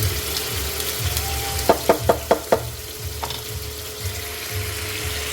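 Crispy tofu frying in a pan beside a second pan of creamy carbonara sauce, with a soft continuous sizzle, a quick run of five sharp clinks or taps in the middle, and one more later.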